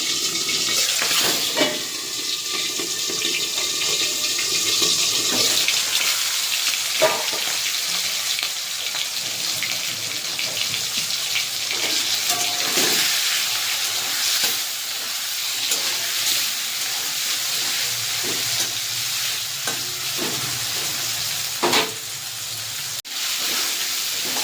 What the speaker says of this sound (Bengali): ভেজে নেব চিংড়ি মাছগুলোকে তো হালকা করে।